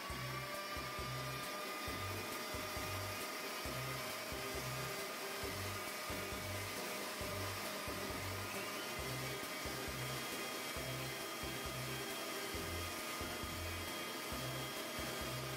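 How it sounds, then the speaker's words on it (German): A kitchen stand mixer whips a cup of cream at full power, a loud steady motor whine with a rapid rhythmic low chugging from the beater, continuous throughout and unaccompanied by voices. "Hier haben wir jeweils einen Becher Sahne in die Maschine eingefüllt und wieder auf volle Leistung eingeschaltet."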